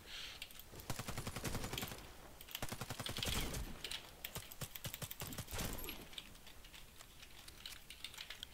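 Rapid automatic fire from an AS VAL rifle in the shooter game Warface, a dense rattling stream of suppressed shots in bursts that keeps going throughout, close and fairly loud.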